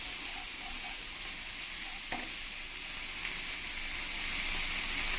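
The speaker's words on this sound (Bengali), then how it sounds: "এবার আমি এর মধ্যে দিয়ে দেবো আদা রসুন পেস্ট পেস্টটা দিয়ে ভালো করে আমি নাড়িয়ে দেবো" Ginger-garlic paste stirred into onion masala frying in a pan for a drumstick and coconut milk curry, giving a steady hiss with a faint scrape or two near the middle, heard close and alone.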